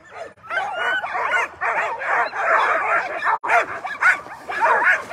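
Sled dogs at a race start in Willow, Alaska bark, yip and whimper in a dense, continuous chorus, loud and close, with barely a pause.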